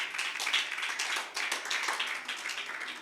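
A church congregation claps together in praise of the Lord, dense rapid hand claps filling the room steadily without pause.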